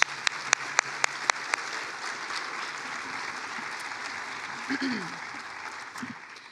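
A school concert audience applauds the middle and high school honor band musicians on stage, a broad, steady wash of clapping after a few sharp opening claps, with faint voices and murmurs underneath.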